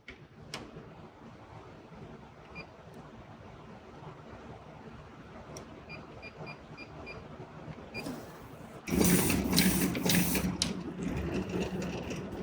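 An MBM 407A automatic tabletop paper folder with a score unit runs with a steady mechanical whir and light rattling. The sound grows noticeably louder and busier partway through as paper feeds, and no one speaks.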